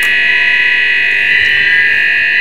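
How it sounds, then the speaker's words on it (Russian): An emergency alarm on control panel A3 of a nuclear reactor drones loud and continuous, a steady electronic buzzing tone that holds unbroken with no voices. "Вот мы слышим, звучит аварийная сигнализация на панели А3."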